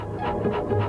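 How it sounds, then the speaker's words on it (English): The cartoon robot dog Goddard gives a brief series of soft, close panting barks, about three quick pulses under a steady low hum. "this is my robot dog, Goddard."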